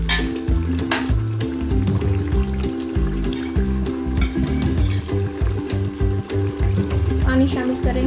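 Water pours and splashes into a pot of fried spices for white pilao, a wet, gurgling fill with drips and trickles, close and fairly loud.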